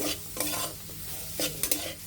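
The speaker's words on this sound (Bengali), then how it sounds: "এখন ভালোভাবে এই মশলাগুলো একটু ভাজা ভাজা করে নিতে হবে। চিংড়ি মাছগুলো ভাজা ভাজা হয়ে গিয়েছে।" Prawns with spices frying in a pan, a soft steady sizzle with a few scraping stirs of a spatula, quiet and close, with no voices.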